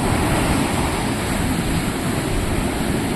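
Loud, constant roar of sea waves and surf with wind buffeting the microphone, no voices.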